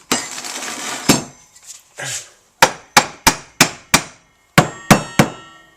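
Sharp metallic hammer blows strike the sheet-metal bodywork of a Volkswagen T25 van close by, a series of ringing bangs in uneven bursts after some initial scraping.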